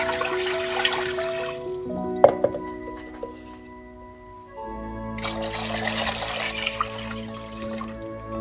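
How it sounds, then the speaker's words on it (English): Two litres of water are poured into a saucepan holding pearl barley, wakame seaweed and lemon, heard as a close splashing gush, a short pause with a clink, then a second stream of pouring over a low hum. "I'm going to add 2 litres of water."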